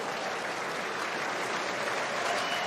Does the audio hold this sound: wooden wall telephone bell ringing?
no